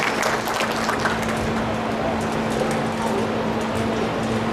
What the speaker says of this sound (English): let's give applause to our friends Mojave or Indian.